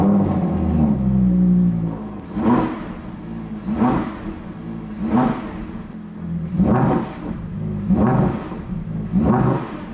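An Audi R8 V10 with a Milltek catback exhaust is blipped repeatedly, about five sharp revs rising and falling at a steady rhythm over a low idle, loud and close with no talk.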